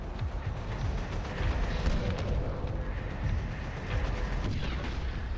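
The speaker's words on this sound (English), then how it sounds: "When bonus is picked up, rockets hits in place." Rocket explosions from a bonus pickup in the tank shooter game Panzer Shoot, a dense, continuous rumble of overlapping blasts and bursts that stays loud and steady throughout.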